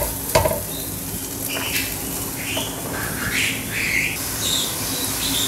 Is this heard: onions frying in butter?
yes